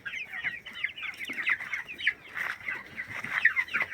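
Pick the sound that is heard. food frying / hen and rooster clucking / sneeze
hen and rooster clucking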